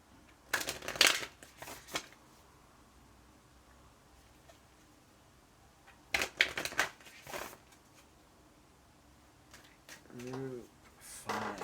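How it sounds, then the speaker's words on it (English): Two quick bursts of tarot-style inner child oracle cards being shuffled, a riffle and then another after a pause, with a brief voice murmuring near the end. "I want to shuffle this inner child deck for you."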